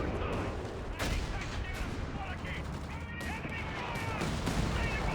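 Whizbang rocket artillery barrage in Company of Heroes 3, dense rumbling fusillade of launches and impacts filling the whole stretch with sharp bursts, loud and continuous in a busy battle mix.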